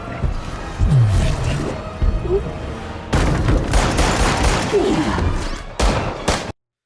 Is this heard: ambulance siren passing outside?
no